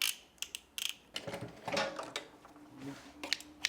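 A sewing machine stitches fabric for pants, giving quiet close mechanical clicking and whirring bursts in an irregular rhythm with short pauses, no talk.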